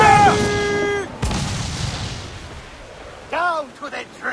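Ship cannons fire in the naval battle of the pirate-era game Assassin's Creed Freedom Cry, with a sharp loud boom followed by a rumbling decay, heard under shouting voices.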